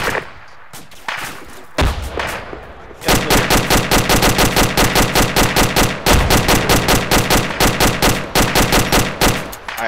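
Rapid, loud automatic fire from a mounted gun in a combat video game, a brief burst followed by long sustained rhythmic volleys close up, with only a short pause between strings.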